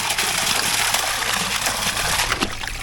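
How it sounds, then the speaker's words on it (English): Water gushes steadily from a big pump filling a deep DIY swimming pool, a loud, continuous rushing and splashing close by, with no talking. "So we're adding water with the big pump."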